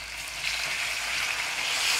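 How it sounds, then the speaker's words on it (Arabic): Chicken breasts, washed and soaked in salt water and vinegar, sizzle steadily in hot oil in a pan, a close, continuous hiss with no talking. "نحمر صدور الدجاج"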